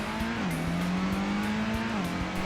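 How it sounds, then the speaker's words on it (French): A 1996 Subaru Impreza WRX STI engine in the Gran Turismo video game holds a steady drone, with a brief pitch dip, a shift, and a recovery, loud and close, no voices. "il y avait la Subaru Impreza WRX STI de 1996. Le bruit de la voiture était tellement réaliste pour l'époque"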